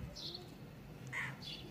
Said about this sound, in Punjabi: ਇਹ ਚਿੜੀ ਬੈਠੀ ਹੋਈ